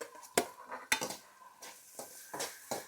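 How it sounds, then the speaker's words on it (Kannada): Capsicum added to onion and ginger-garlic paste frying in a pan for paneer bhurji: several sharp spoon clanks against the pan with light scraping and a faint sizzle underneath, fairly quiet and close. "ಇವಾಗ ನಾನು ಕ್ಯಾಪ್ಸಿಕಮ್ ಹಾಕ್ತಾಯಿದ್ದೀನಿ."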